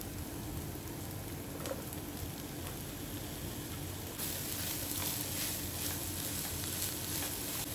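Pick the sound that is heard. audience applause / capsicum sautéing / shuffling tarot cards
capsicum sautéing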